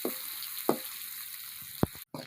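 Onions and curry leaves sizzle in hot oil as a tempering for a Tamil stem-amaranth greens curry, a steady quiet crackle with a few sharp louder pops and brief breaks, no one speaking.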